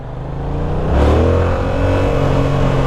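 A Yamaha MT-07 motorcycle accelerating hard with the throttle opened, its loud, close engine note rising and holding in a continuous roar with no talk.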